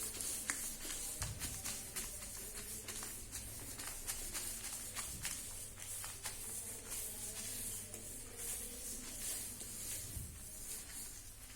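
Pen on paper while writing out a simple present tense exercise by hand, quick faint scratchy strokes in bursts at close range, with occasional soft thumps and no talking.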